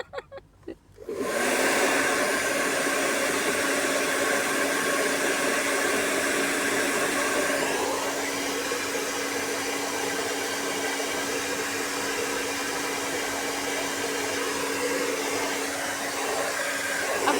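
A handheld hair dryer of the kind used for salon blow-outs switches on after a brief rustle and then runs continuously as a loud, steady whooshing roar with a constant whine, its airflow shifting slightly partway through.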